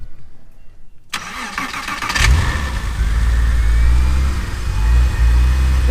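A $1900 Porsche Boxster beater with a freshly cleaned MAF sensor and throttle body cranks and fires up close by after a second of near silence. It then settles into a loud, rough, uneven idle that holds to the end.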